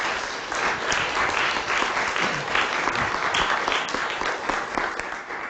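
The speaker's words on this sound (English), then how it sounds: "Round of applause, please." An audience at an academic welcome session gives a sustained round of applause, dense and even clapping from a full room that holds steady and fades slightly near the end, with no speech over it.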